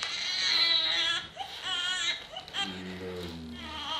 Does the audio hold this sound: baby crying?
yes